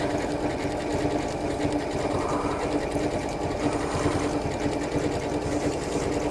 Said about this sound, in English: because I'm stitching over that other previous stitch